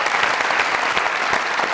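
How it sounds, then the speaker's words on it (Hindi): Audience applause at a comedy show: dense, steady clapping from a large crowd, even and continuous throughout, with no voices rising above it. "जरा जरा तालियां दो।"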